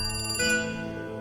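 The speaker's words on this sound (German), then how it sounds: "Das Klingeln des Telefons, es klingelt." A telephone rings in the video game The Cat Lady, a bright electronic tone with steady harmonic pulses that shift partway through, then fade into a softer sustained ring, heard alone with no talking.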